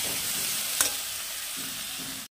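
Spice paste being stir-fried and stirred in a pan for a jackfruit curry, a steady hiss of frying with a brief scrape of a spoon, close and continuous, no talking.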